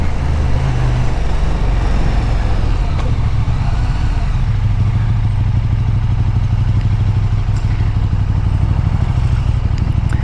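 KTM Super Duke 1290 GT motorcycle riding along at steady speed, a continuous loud engine drone mixed with wind rush, close and unbroken for the whole stretch.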